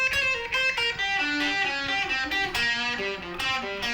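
Electric guitar plays a heavy rock pentatonic lick that opens with a pull-off, a steady run of distinct notes ringing loudly and alone for several seconds.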